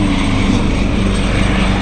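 Loud, close rotor thrum and engine roar from a landing Agusta helicopter continue steadily throughout, without voices.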